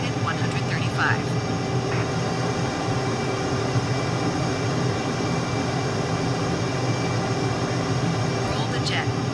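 Jet aircraft engine in Microsoft Flight Simulator, a steady broad roaring hum with a high whine layered on top that holds at an even level throughout, with a voice talking briefly over it.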